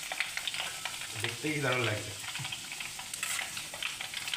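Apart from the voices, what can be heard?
rice frying in a pan for homemade chanachur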